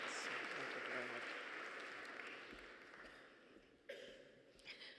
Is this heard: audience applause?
yes